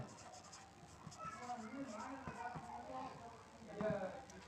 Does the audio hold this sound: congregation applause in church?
no